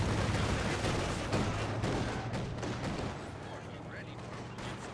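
Rapid gunfire from a 222 armored car in Company of Heroes 2 crackles amid dense battlefield noise, with overlapping shots, distant explosions and a steady low rumble throughout.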